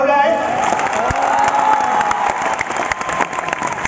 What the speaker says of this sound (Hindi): 2021 एक बार जोरदार ताली हो जाए।